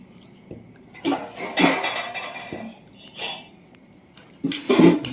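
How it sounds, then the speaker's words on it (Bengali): A metal utensil mashes boiled pumpkin for sweet khichuri in a pot, giving several irregular scraping knocks and clinks against the pot with quiet gaps in between. "এই যে কুমড়োটা খুব সুন্দর সেদ্ধ হয়ে গেছে এবার এটাকে একটু ম্যাশ করে নেবো"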